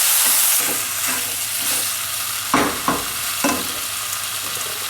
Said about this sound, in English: We'll give that a good stir around.